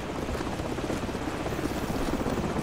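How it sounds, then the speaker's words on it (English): A helicopter in the video game Call of Duty 4: Modern Warfare gives off a constant, fairly loud rotor thrum and engine roar that holds steady and sounds near overhead. "Hold on, the helicopter's back."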